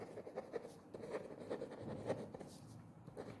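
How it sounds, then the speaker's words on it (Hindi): A pen scratches out an amount on paper in quick, soft, close strokes, with a steady rhythm of small scribbles and short pauses. "तो यहां लिखेंगे अमाउंट"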